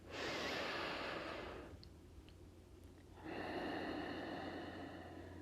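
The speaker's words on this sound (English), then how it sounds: "Maybe 2 more rounds, inhaling completely, exhaling" Deep yoga breaths, a long, full airy inhale through the nose, a short pause, then a slow steady exhale, close and clear with no talking.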